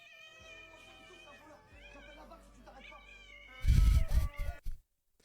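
A cat meows repeatedly in short, rising and falling cries, fairly close and clear, ending in a brief loud rustling burst.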